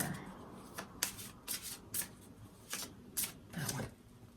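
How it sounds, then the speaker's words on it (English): A deck of oracle cards being shuffled by hand, giving a series of short crisp riffling bursts at an irregular rhythm, close and fairly quiet, with no talking. "she wants me to just keep on shuffling here"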